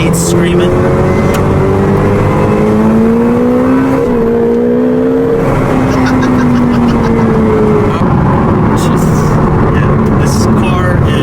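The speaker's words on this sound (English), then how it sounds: "Novitec Exhaust in the back, aftermarket. That's why you can hear the V8 screaming." A 2023 Ferrari 488 Pista twin-turbo V8 in race mode screams through an aftermarket Novitec exhaust, its loud, sustained engine note rising and falling in pitch close by with steady harmonic drone throughout.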